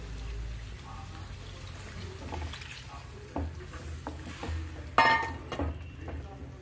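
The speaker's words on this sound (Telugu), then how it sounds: "ఇలా వాటర్ పోసుకోవచ్చు" Water is poured into gram flour (besan) in a home kitchen while a curry is being made: a faint, soft trickle with light stirring and a few small clinks of utensils against a pan.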